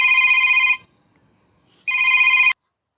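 A telephone bell rings in two sharp electronic bursts separated by a brief silence, loud and clear with nothing else around it.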